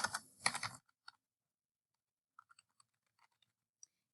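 A short burst of rustling or noise comes first, then scattered, faint clicks of typing on a computer keyboard, with sparse taps separated by pauses in a quiet room.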